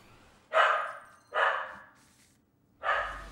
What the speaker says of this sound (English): My dog has picked a fight with the neighbor